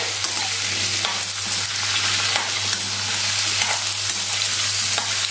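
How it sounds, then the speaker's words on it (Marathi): Drumstick and potato pieces sizzle and fry in hot oil over a medium-high flame, with a steady crackle and occasional scraping stirs, plus a low constant hum in the background. "आपल्याला तेलावरती परतून घ्यायचंय।"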